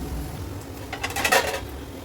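A metal lid is set down on a pot of onions softening for chicken curry, giving a short clattering clink midway over a low kitchen hum, with no talking.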